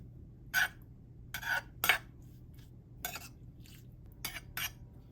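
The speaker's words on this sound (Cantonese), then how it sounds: "跟住咧將所有嘅配料撈勻佢。" Spoon or utensil knocking and scraping against a bowl while seasoning ingredients for steamed fish are mixed together, a few short clinks spaced out over a quiet, close background.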